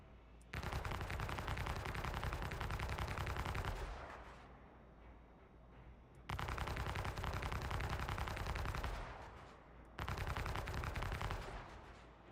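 Heavy automatic gunfire in the Star Citizen space game, arriving in three long, loud, sustained bursts separated by short gaps filled with a lower rumbling tail.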